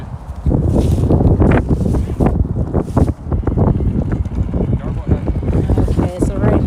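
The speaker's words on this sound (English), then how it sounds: "right now we have Ryan operating it. He's just repositioning it so it doesn't just blow snow on us" A Yarbo robot snow blower works through wet snow in Chicago, producing loud rushing, gusty blowing noise with uneven surges, while people talk nearby.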